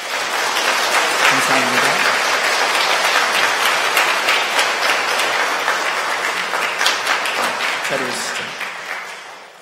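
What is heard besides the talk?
applause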